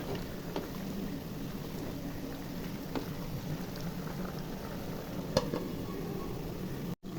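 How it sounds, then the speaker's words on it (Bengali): A pot of goat tripe stew simmers with a soft, steady bubbling hiss, a few faint clinks, and a sharp knock near the end. "বলক চলে এসেছে, নেড়ে চেড়ে দিই।"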